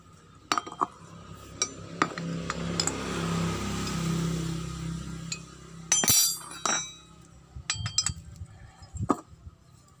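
Gentle metal taps on the inner part of a Honda Vario scooter engine seal, a series of sharp, clinking strikes spaced irregularly over a low background hum, close and fairly clear, without talk.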